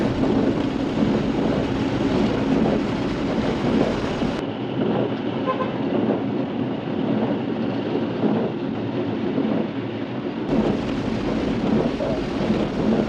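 Heavy rain pours beneath a mega flyover with deep rumbles of thunder, passing car traffic and an occasional horn, forming a loud, continuous wash of sound.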